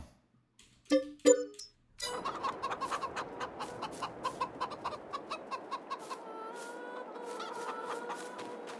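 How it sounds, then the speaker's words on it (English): Chickens in the Farming Simulator 22 farming game cluck in a steady, rhythmic run of short clucks, a few sharp calls first, then a busy flock chorus with occasional higher squawks. "so our chickens are up and running."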